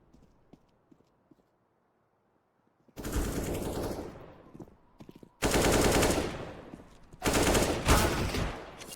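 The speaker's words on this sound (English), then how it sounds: "These pistols are doing quite a bit of damage into this 3v5" Pistol gunfire from an esports shooter match erupts in three loud, rapid bursts after near silence with faint ticks, each burst a dense volley of shots that decays between rounds of fire.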